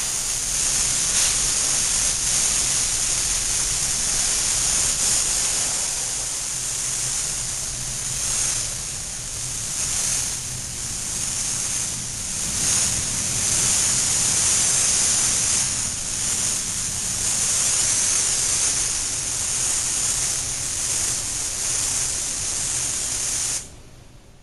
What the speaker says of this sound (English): Now apply base coat to the areas that have blushed or that you have repaired due to chipping or collision